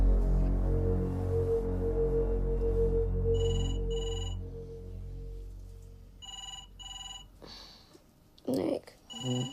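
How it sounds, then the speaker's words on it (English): A telephone ringing in the middle of the night, with several short electronic ring bursts under a fading low background tone, followed by a brief rustle and movement near the end. "Nick, it's the phone"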